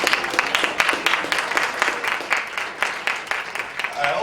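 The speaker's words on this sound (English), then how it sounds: "Let's please clap to that." Audience clapping at a Dr. King tribute event, a steady spread of many hands applauding together, moderately loud and close, continuing without pause through the whole stretch with no talk over it.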